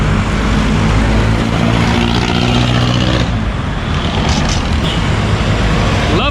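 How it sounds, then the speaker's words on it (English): A motorized tricycle moves through busy Manila street traffic, its engine rumble blending into a dense, steady roar of cars, buses and trucks close by, with no clear break in the noise. "That is a tricycle."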